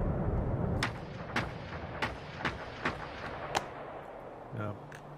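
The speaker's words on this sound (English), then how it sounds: "I walked right into a space with no bombs and a whole bunch blew up" Landmines blowing up in the video game Generation Zero: a series of sharp, loud blasts arrive in an irregular sequence, about eight in all, over a low rumbling background.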